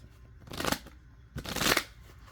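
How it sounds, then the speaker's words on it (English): Two quick riffles of a tarot deck being shuffled, each a crisp burst of flapping cards close by, separated by a short pause. "Let me shuffle because I'm being told to shuffle."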